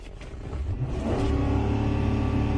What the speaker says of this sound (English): while the engine's racing, you've got control of the vehicle and you're slowing down